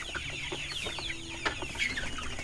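Chickens and chicks on a farm cluck and peep in a busy, overlapping chorus close by, with scattered brief scratching sounds in the rice hull bedding.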